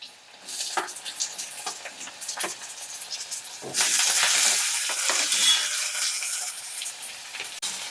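Curry leaves and capsicum fry in a pan with onions, giving a close crackling sizzle and stirring scrapes that swell into a louder, steady hiss partway through.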